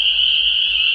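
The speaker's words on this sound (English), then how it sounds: "peepers are just deafening." Spring peeper frogs call at a wild campsite at night, a dense, continuous high-pitched chorus that is loud and unbroken, with no talk over it.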